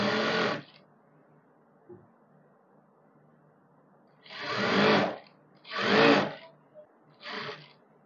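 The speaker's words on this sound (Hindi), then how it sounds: "पूरे पैंट पर हम अपनी सिलाई लगा देंगे इस तरह से" A sewing machine stitches a palazzo pant in short bursts: one brief run at the start, then three separate runs of whirring stitching after a pause, each stopping sharply, with quiet handling between.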